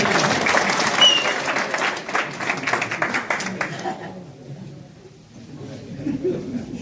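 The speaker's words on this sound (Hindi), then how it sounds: "खड़े हो जाओ, जोरदार तालियां करें।" A crowd claps enthusiastically for several seconds, then the applause dies away into a quieter room with faint background noise.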